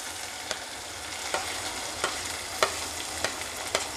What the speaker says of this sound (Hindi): प्याज को हम हल्का हल्का गोल्डन ब्राउन कलर करके लेंगे